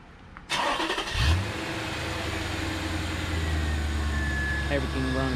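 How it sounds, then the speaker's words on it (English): A car with newly swapped ignition coils, fuel pump and knock sensors fires up by remote start: a brief starter crank catches into a strong rev, then settles into a steady, smooth idle hum, with someone talking over it. "Let's go ahead and remote start."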